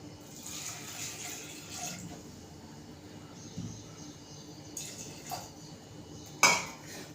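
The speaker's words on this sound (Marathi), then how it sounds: "एक ग्लास पाणी घालते" A glass of water splashes into a metal pressure cooker with dal, with light clinks of cookware and a sharp metallic clang near the end.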